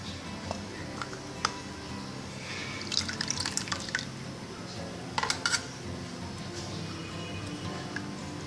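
Bael fruit pulp is strained for juice in a home kitchen, with soft drips of liquid and a few light metallic clinks and taps from the strainer and utensils, close by and without talk.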